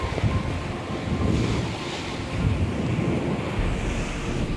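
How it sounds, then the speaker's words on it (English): Strong wind of about 25 knots roars across the microphone while a sailing boat at sea surges along at 9 knots, waves washing steadily around the hull in a constant rushing noise. "We're now back up to 25 knots of wind and we're stonking along at 9 knots."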